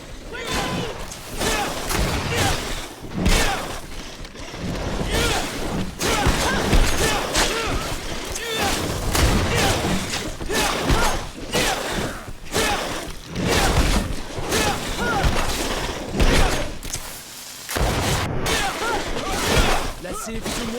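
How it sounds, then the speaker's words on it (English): Combat in the video game GreedFall with a grenade explosion, dense bursts of gunfire, crashes and impacts that keep going the whole time, with voices shouting over the fighting. "Watch out! Grenade!"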